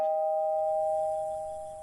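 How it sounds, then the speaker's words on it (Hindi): An electronic doorbell chime sounds indoors as a single sustained tone that rings steadily and fades slightly toward the end, with no talking over it. "कोई घंटी बजा रहा है।"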